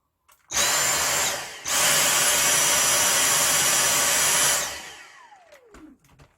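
A Dyson V6 cordless vacuum cleaner with its roller head attached runs at a loud, steady high-pitched whine, briefly cutting out and restarting before winding down to silence, followed by a few small clicks.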